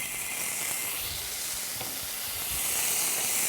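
Garlic dropping into hot oil bursts into a loud, steady, close sizzle that swells and crackles, with faint stirring taps underneath and no voice.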